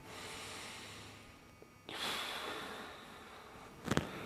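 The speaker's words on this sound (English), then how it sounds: "It is often better to have your lips slightly pursed as you are exhaling." A person exhales through slightly pursed lips during yoga breathing for cyclists and runners, giving a soft, airy hiss that rises partway through and ends with a brief sharper puff near the end.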